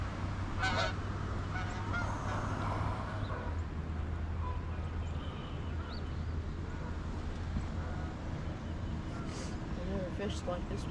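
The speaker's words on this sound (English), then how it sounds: "And there's a couple of geese." A couple of geese honk repeatedly on Lake Cherokee in Arkansas, moderately distant, over steady outdoor background noise while someone talks.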